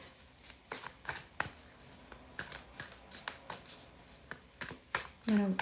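Tarot cards being shuffled by hand, a run of crisp riffling bursts repeating in quick succession, close and fairly loud, with a brief low thud near the end.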